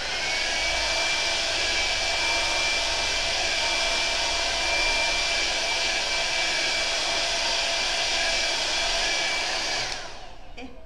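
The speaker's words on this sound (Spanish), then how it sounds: "Y le ponemos, ok, el secador." A hair dryer blows on wafer paper for cake decoration, a loud steady whirring hiss held for about ten seconds before it switches off and the sound drops away.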